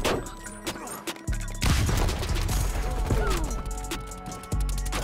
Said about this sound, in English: chill out with the shooting, man